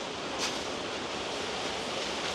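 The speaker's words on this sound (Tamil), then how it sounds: "நல்லா காற்று அடிச்சு கொண்டிருக்கு." Strong wind gusts outdoors in a village yard, a continuous broadband rush with a slight swell midway, no talk over it.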